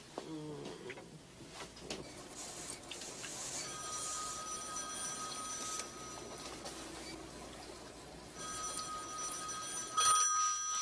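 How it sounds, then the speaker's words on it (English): A telephone rings in a home scene, with bursts of electronic bell tone repeating over a faint background. "answer the phone"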